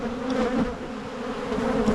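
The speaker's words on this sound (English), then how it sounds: "There's just a lot more bees on this hive." Honey bees swarm around a beehive in a garden, a dense, close, continuous buzzing drone that swells and wavers slightly throughout, with no voices.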